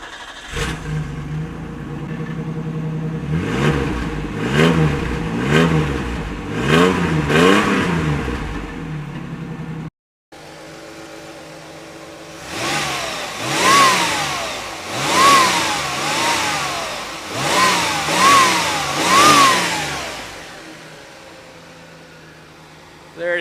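A small Isuzu truck engine is revved repeatedly in rising and falling bursts, loud and close, with a short break midway before another series of revs.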